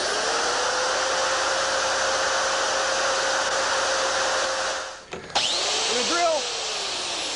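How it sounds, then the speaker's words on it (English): A steady high-pitched power drill whine boring through a lock cylinder runs continuously for about five seconds, then cuts out abruptly with a clunk, followed by brief squeaky tones. "When the drill hits the back of the lock, you'll feel it go through"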